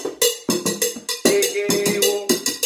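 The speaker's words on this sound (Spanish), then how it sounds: "La salsa suena así, aquí está una campana" A cowbell playing a salsa rhythm, struck in a quick syncopated pattern of bright, ringing metallic hits, close and clear with no talking.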